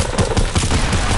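Rapid automatic SCAR rifle fire in a shooter video game, a quick burst of loud, closely spaced shots filling the short moment.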